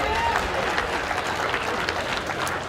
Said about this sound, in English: A little round of applause for Adelaide Baseball Club.